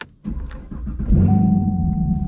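A Chevrolet Camaro SS engine cranks briefly, then catches about a second in and settles into a loud, steady idle rumble with a faint whine.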